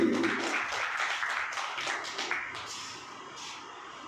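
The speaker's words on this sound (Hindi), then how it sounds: "काजल के लिए एक बार जोरदार तालियों की गड़गड़ाहट हो जाए" Steady applause from a school audience honoring a tenth-grade topper at a senior secondary school ceremony, a soft, continuous patter of many hands clapping for about four seconds at a moderate distance.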